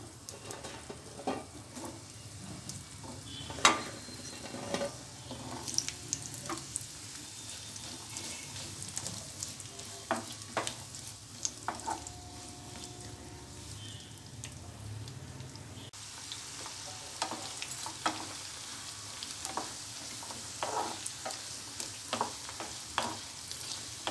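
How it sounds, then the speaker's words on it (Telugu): Cut moringa drumstick pieces frying in hot oil in a pan for a drumstick pickle, a steady soft sizzle with scattered crackles and pops, fairly quiet and without talk. "ఆయిల్ వేడైన తర్వాత ముందుగా కట్ చేసుకున్న ములక్కాయల్ని ఫ్రై చేసుకోవాలి."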